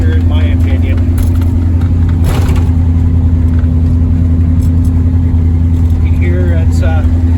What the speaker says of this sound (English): It's the camshaft on here is a little on the lumpy side, so it's a little gnarly in the cab when you get down the highway.